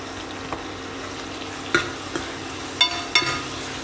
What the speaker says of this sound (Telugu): ఇప్పుడు మనం ఈ ఆయిల్లో మనం కట్ చేసుకున్న ఉల్లిపాయలు అలాగే పచ్చిమిరపకాయలు మరియు టమాటాలను వేసుకుని వేగనివ్వాలి